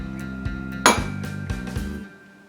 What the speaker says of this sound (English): I think the bowl makes the lowest sound